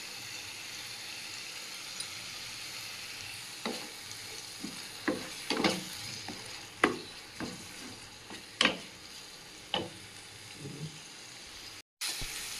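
Tomatoes for a koi fish curry sautéing in a pan, a steady low sizzle broken by a run of sharp spatula scrapes and clatters against the pan, close and clear with no talking.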